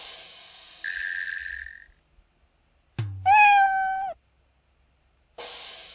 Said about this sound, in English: the sprite creates the sound specified in the blocks, which are mew and drum beats